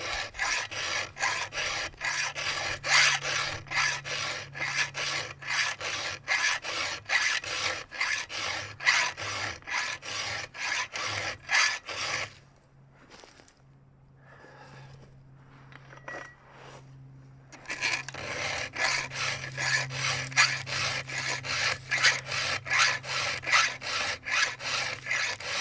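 A hand file rasps against a chainsaw chain out in the woods, a fast, even back-and-forth scraping stroke close up, pausing briefly midway before resuming at the same pace.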